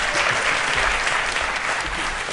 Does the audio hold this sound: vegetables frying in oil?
no